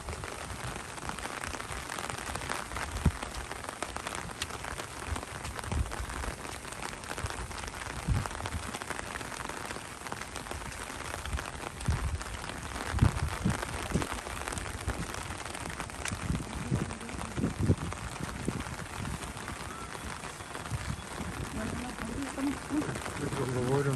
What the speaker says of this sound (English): looks like it's going to be raining like this for 24 hours.